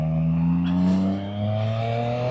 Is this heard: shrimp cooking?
no